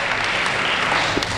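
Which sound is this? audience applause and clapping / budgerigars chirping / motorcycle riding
audience applause and clapping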